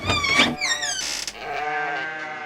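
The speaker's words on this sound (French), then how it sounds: "la lutine s'endormit bien au chaud au milieu des moutons et des brebis, bercés par leur doux bêlement" Sheep bleat inside a sheepfold, with two or three wavering, nasal calls close by, one following right after another with no pause, and no talk over them.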